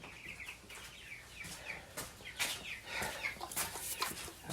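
Chickens cluck and squawk in agitation inside a garage, a busy scatter of short calls at moderate distance with no talk over them.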